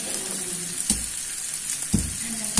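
Three cloves of crushed garlic drop into a hot pan, setting off a loud, steady frying sizzle with a few sharper crackles as pieces hit the oil, heard close up with no voices.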